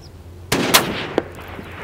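A single sharp crack from a Mauser 30-06 sporter rifle firing a 178-grain round outdoors, followed by a brief rolling echo and a faint distant knock.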